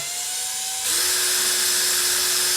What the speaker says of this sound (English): So I'm just letting the drill really nice and smoothly get through there.